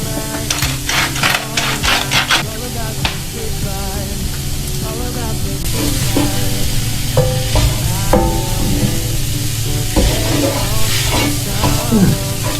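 Curry spices with garlic and seeds toast in liquid in a pan, giving a steady sizzle broken by repeated scraping stirs.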